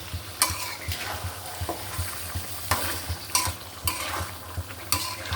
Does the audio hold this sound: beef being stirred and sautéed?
yes